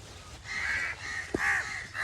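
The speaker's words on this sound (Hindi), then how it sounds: "यहाँ पर कौवे भी आ चुके हैं, इधर बैठे हैं उधर बैठे हैं, ये सारे कौवे।" Crows perched around a poultry farm caw in a short series of harsh calls, fairly close, over a quiet outdoor background with one brief knock.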